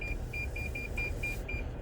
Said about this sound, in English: It's this damn beeping.